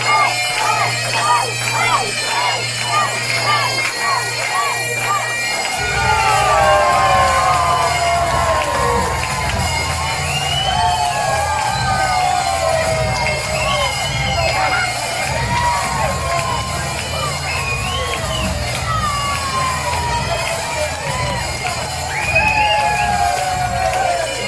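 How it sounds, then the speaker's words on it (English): At a professional wrestling show, a large crowd cheers loudly and continuously, with scattered shouts and whoops rising and falling over roughly twenty-four seconds of sustained noise. "And the crowd are really getting behind the Tartan Warrior."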